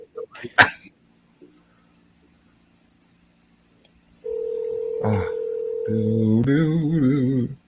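After a quiet stretch with a brief knock, a steady electronic telephone tone sounds and then shifts into a warbling ring, with a voice breaking in briefly.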